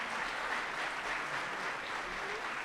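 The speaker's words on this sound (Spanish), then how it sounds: "ese aplauso para nuestro distinguido expositor" An audience claps for a lecturer after a firearms and toolmark identification talk: a brief, even burst of many hands clapping together in a hall, steady and moderately loud, with no voices on top.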